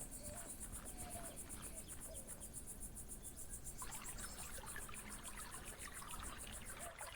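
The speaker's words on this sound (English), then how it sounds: "Love the water effects. Would you look at that spring?" Spring water trickles softly and continuously in the video game Rosewater, faint and steady beneath a constant high chirping of insects.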